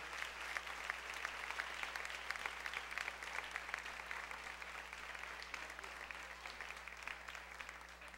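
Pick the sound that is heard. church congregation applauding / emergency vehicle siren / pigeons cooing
church congregation applauding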